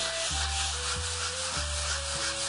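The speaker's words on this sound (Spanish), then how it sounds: "es el momento de lijar." Sandpaper rubs over a dried, filled crack repair in a wall. The rasping is steady and close, with rhythmic back-and-forth strokes landing roughly twice a second.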